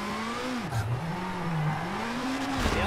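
A rally car engine in WRC 6 on a Spanish stage hums at a steady high pitch, dipping and rising as the revs shift, with a faint tire scuff near the end.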